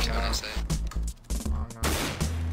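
Rapid gunfire in CS:GO, loud bursts of repeated shots broken by brief gaps, with a voice talking over the shooting.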